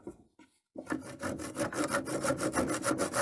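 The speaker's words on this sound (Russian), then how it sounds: "Придется допиливать ножовкой." Hand saw cutting through a piece of wood for a wall clock, a few tentative scrapes, then a steady run of rhythmic back-and-forth rasping strokes, close and clear with no talking.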